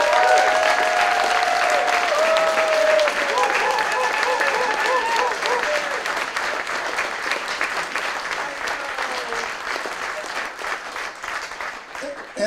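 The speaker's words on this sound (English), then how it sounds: "So let's give Michael Castro a big round of applause." Sustained audience applause for St. Louis's inaugural poet laureate, dense and steady clapping from a crowd that fades slightly toward the end, with some voices mixed in.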